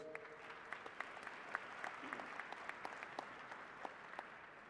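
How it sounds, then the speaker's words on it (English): A commencement crowd gives sustained, even applause at a faint, distant level, a steady wash of many hands clapping with a few sharper claps standing out, with a brief murmur of voice underneath. "Would you please give him a round of applause?"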